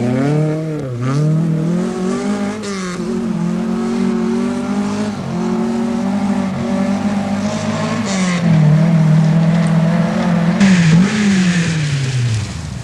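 A rally car in the 1983 NSW Rally Championship, driven by Peter Clark, edges cautiously through boggy forest toward a narrow bridge. Its engine drones loud and close, with pitch rising and dipping through steady throttle changes.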